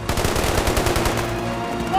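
Rapid machine gun bursts ring out close and loud in a soldiers' drama, a dense, continuous rattle of gunfire that carries on for the whole stretch, with no clear speech over it.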